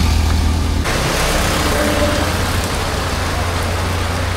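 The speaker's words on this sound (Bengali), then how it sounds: "তো আবার বৃষ্টি বাড়তে থাকে।" Heavy monsoon rain falls loudly and without a break, a thick close hiss with a low engine-like hum underneath at first, then the rain alone fills the scene.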